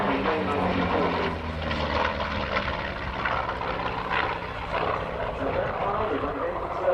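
A Pratt & Whitney R2800 Double Wasp radial engine drones from an F4U-4 Corsair flying at the Royal International Air Tattoo airshow, a continuous propeller roar beneath a commentator talking.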